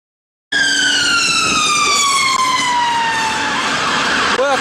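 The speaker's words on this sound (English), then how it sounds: "I'm on the way to the comedy club with loads of police cars around me." A loud police car siren wails continuously, its pitch sliding slowly downward, then briefly switches to a rapid warbling yelp near the end.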